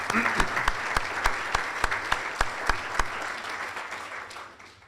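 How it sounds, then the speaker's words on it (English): A Chamber of Commerce luncheon audience claps for event sponsors, with a few sharp distinct claps standing out in a regular rhythm over softer general applause that fades toward the end. "let's give a round of applause for them"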